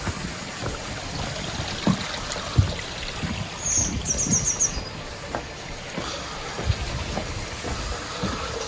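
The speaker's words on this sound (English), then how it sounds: "I've got water flowing over there, which is going through a dechlorinator." Water trickles and flows steadily into an indoor koi pond through a dechlorinator, a soft continuous running sound with faint bird chirps and small knocks, fairly quiet with no voices.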